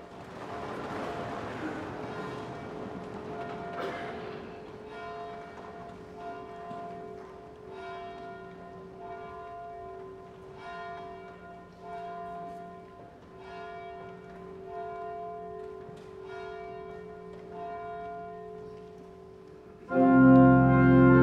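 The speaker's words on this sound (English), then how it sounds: "As the bell rings, we stand together." A church bell rings before a worship service, its sustained tolling carrying steadily and fairly loud for about twenty seconds, with a louder, harsher sound bursting in at the very end.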